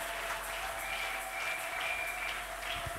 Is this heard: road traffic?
no